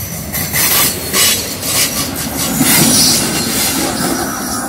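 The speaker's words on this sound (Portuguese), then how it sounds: "Olha aí a locomotiva de cauda." VLi freight train descending the Serra do Mar toward Santos as its rear AC44 locomotive passes, loud and close, with a steady rumble of wheels on rail, rhythmic clacking and a high metallic squeal throughout.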